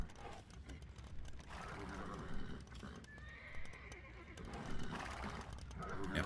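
Horses in a strategy video game, during a 2v2 tournament match, neigh and whinny over steady hoof clip-clop, with a commentator talking throughout.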